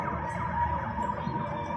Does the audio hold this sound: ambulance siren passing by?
yes